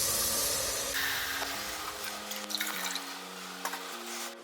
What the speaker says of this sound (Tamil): இப்போ நம்ம எடுத்து வச்சுருக்க தேங்காய் பால் எடுத்து சேர்த்துக்கலாம்.